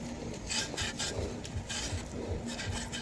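Scraping hardened oil residue from the rough oil seal mount of a Supremo 150 motorcycle front shock, heard as close, steady rasping rubs in repeated strokes of varying intensity with no talking.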